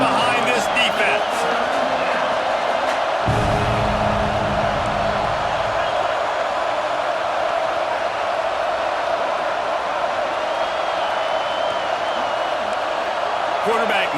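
Stadium crowd roaring in support of the defense on a big third down at a football game, a steady dense wall of cheering throughout with a brief louder low rumble early on.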